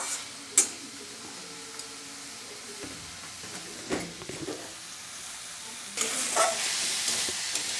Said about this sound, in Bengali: আমার শিম দিয়ে মশলা দিয়ে ভালো করে কষানো হয়ে গেছে